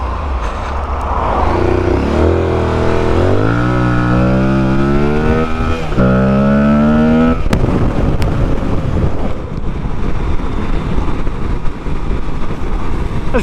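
An Aprilia Tuareg 660 motorcycle accelerates hard out of a car park, engine pitch rising through several quick gear changes, loud and close under heavy wind buffeting, then settling into steady wind-roar cruising.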